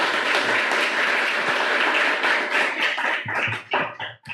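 A church congregation claps loudly for Jesus during a service, dense applause that thins into scattered individual claps toward the end.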